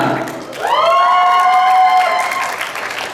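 Supporters in the audience at the Duta Bahasa Kepulauan Bangka Belitung 2025 finals cheer and clap loudly for the finalists, a swelling roar of shouts and whoops that holds steady, then fades slightly.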